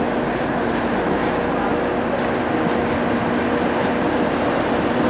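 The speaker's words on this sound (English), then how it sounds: "Here comes my train." A Northern train, class 170 unit, arrives at a station on a nighttime service to Hull, with a steady loud rumble and rail noise throughout and faint voices underneath.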